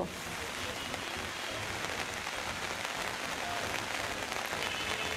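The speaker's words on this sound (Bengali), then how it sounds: "গত 1 ঘন্টা ধরে মুষলধারে বর্ষণ হচ্ছে বন্দরনগরীতে" Dense, steady downpour roaring evenly throughout in Chittagong, Bangladesh, a constant wash of heavy rain with no voices.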